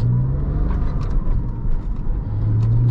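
Engine of a 2000 Porsche Boxster S pulls steadily under acceleration, a close, loud low rumble with a rising tonal drone, continuous for the whole stretch with no talking.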